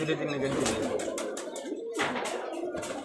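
A Rajshahi highflyer pigeon gives soft, low cooing calls nearby, mixed with other faint chirps, while people talk in the background.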